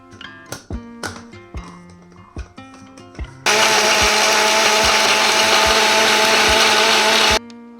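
A kitchen blender whirs loudly and steadily for about four seconds while making apple and date juice, preceded by a series of light taps and knocks as it is set up.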